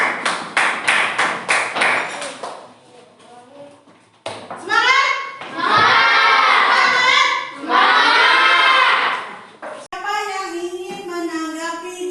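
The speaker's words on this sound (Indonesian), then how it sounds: "Ya, tepuk tangan untuk kelompok Indonesia." A classroom applauds a student group after a science presentation: a quick burst of close, rhythmic clapping at the start, then children's voices talking loudly over the rest.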